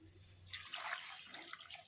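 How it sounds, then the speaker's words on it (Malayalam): Water splashes and trickles into a cooking pot of pumpkin and beans, a steady pouring wash with small drips, close by and moderately loud. "ഇതിന് വേകാൻ ആവശ്യമായ വെള്ളം ഒഴിച്ചു കൊടുക്കാം"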